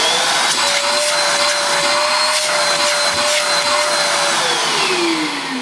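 An Efbe Schott backpack vacuum cleaner runs continuously with a loud, steady high whine and airy rush, its pitch dropping near the end as it slows, with a few faint knocks and no speech.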